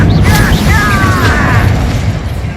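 A fire spell cast in the Hogwarts Legacy video game, a loud whooshing burst with crackling, booming impacts and a rising magical shimmer, continuous and dense for a couple of seconds.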